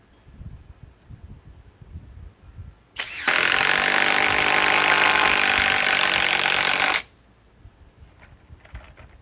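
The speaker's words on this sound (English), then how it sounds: "Impact wrench." A high-torque 3/4 inch impact wrench (model 1472) bursts into a loud, steady whirring hammer for about four seconds, starting and stopping abruptly between quiet moments of faint handling noise.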